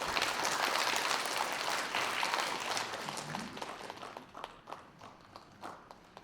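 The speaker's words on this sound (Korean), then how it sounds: "여러분들 저희 두 시상자분들께도 큰 박수로 맞이해 주시면 감사하겠습니다" A crowd at an integrity award ceremony claps to welcome two award presenters onto the stage, dense applause at first that thins into scattered individual claps by the end.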